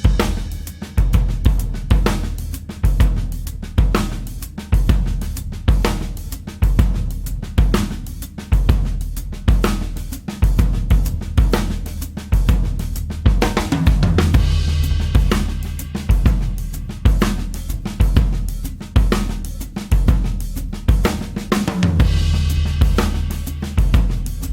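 A drummer plays a loud, close drum kit in a halftime shuffle, with a heavy backbeat and soft grace notes filling the triplet gaps, grooving steadily for about twenty-five seconds without speech.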